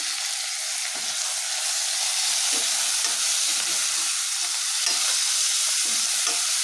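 Chicken biryani base with mint and coriander leaves stirred in hot oil: a loud, continuous frying hiss with soft scraping stirs underneath, close up and without talk.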